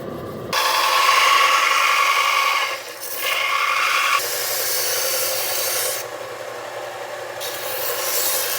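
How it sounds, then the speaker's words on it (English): A drill bores a hole through a steel knife blade forged from an old rasp, giving a loud, steady, gritty grinding that dips briefly and resumes, close by with no talking. "so we got the hole drilled right there"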